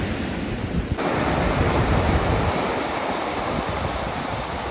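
Big, aggressive ocean waves crash onto a foggy beach beside resort hotels: a loud, continuous wash of surf and rushing water, dense throughout the few seconds, with no voices.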